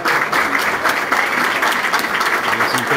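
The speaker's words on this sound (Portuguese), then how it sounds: "General Mourão, aplaudido." Business owners at a talk in Uruguaiana give General Mourão a sustained round of applause, loud, thick and steady for a few seconds.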